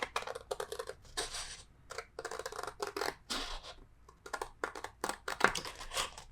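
Scissors snipping paper for a Stamperia Daydream mini album, a run of short, crisp cuts in quick irregular bursts with brief pauses between them, close and fairly quiet.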